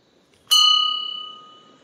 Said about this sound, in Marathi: तर हे बघू शकता मित्रांनो घंटी